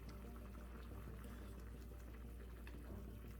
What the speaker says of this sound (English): embrace all the sinful vegetables with the tranquility of our stock. Bring to a boil.